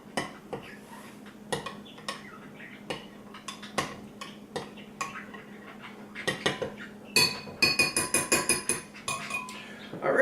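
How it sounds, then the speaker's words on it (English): A utensil stirs a Parmesan cheese mixture in a bowl, scraping and clinking against the sides in irregular taps that grow busier and louder toward the end, with no voices. "Just going to stir it all together."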